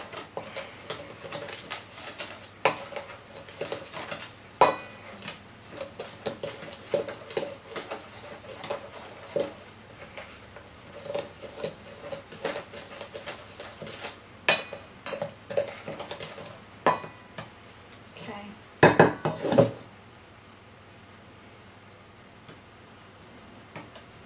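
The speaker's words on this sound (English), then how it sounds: "Give it a nice stir around." A crescent cake mixture is stirred in a bowl with a utensil, making steady light clicking and scraping taps against the bowl's sides, close and alone for the whole stretch, with a few sharper knocks near the end.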